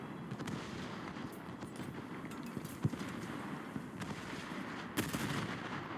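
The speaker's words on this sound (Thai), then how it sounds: "เนี่ยมันยิงอย่างนี้เลยปืนคู่อ่ะ สามกระบอก" Twin-gun turrets on a World War II warship firing in War Thunder naval battle, scattered dull booms and sharp cracks over a continuous rumbling sea and engine bed, with two heavier blasts standing out.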